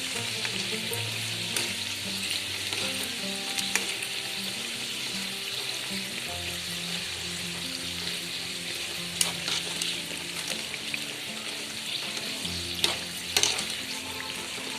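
Spicy wheat-flour diamond cuts deep-frying in oil, a constant close crackling sizzle with soft bubbling that holds for the whole stretch, broken only by a few small pops and light clinks.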